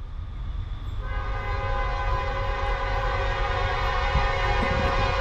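A Norfolk Southern freight train, train 24X led by AC44C6M 4312, rumbles past while its horn blasts in a long, loud, sustained chord over the heavy rolling noise of the cars.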